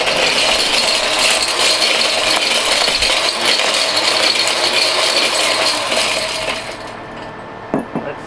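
Electronic connectors of plastic, metal and pins are shredded in a Mighty Mill ore crusher, giving a loud, harsh, rattling, ratcheting grind that holds for about seven seconds, then drops away to quieter clatter.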